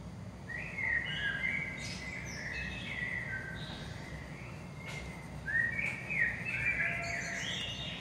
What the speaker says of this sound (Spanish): He puesto de fondo los pajaritos.